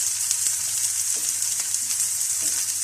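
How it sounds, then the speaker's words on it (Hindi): Vegetables frying in a pan while being stirred, a steady close sizzle with soft scraping and clinks from the stirring, no voices. "हिला लें वेजिटेबल्स को"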